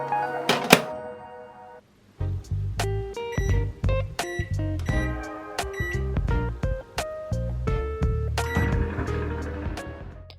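A microwave oven cooks whisked eggs with pepper in a microwave-proof dish, giving a steady low hum broken by repeated clunks and short tonal beeps after a brief pause near the start.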